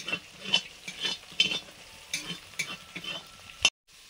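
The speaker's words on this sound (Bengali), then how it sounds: "এবার শাকটা দিয়ে দিচ্ছি" Leafy greens are stirred in a frying pan with onion, garlic, salt, turmeric and ground roasted chili. Soft, rhythmic spatula scrapes run over a light sizzle, then a sharp clank and sudden silence.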